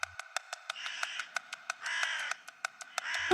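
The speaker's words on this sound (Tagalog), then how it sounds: "Maya-maya ang tunog ng uwak ay nasa malayo na banda." Crow cawing as a sound effect in a narrated horror story, harsh repeated caws in short bursts over a steady ticking beat, fairly loud and close, with no talk.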